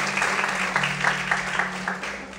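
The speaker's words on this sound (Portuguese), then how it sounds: "Mais forte as palmas, aleluia." A church congregation claps along in a steady, rhythmic beat, the clapping filling the room with a sustained tonal hum underneath.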